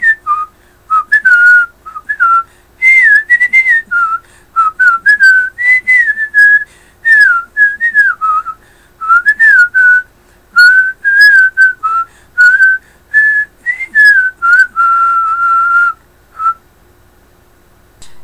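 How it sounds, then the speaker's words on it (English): A person whistles a wandering melody for about sixteen seconds, clear and close, in short phrases separated by breaths, with silence at the end. "usually start off with a lower pitch, because that will help you with the art of the whistle"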